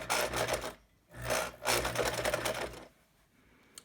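A sewing machine stitches curved quilt pieces together in two steady runs separated by short pauses, humming close and alone before falling quiet.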